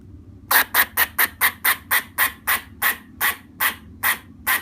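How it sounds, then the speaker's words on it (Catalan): A squirrel gives a rapid series of about fourteen harsh, raspy chattering calls, evenly spaced and gradually slowing, close and clear with no other sounds. "L'esquirol."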